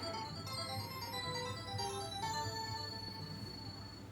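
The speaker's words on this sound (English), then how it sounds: "I've never been happier to hear the startup sound to the Neo Geo" Neo Geo console startup sound playing steadily, with sustained electronic chime-like tones layered over a constant hum, fairly loud and continuous with no talking.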